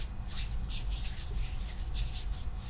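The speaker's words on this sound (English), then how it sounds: "use this for a hand rub" Chest rub ointment is worked into the hands, a close, steady rubbing and smearing of skin on skin with soft rhythmic swishes and no pauses.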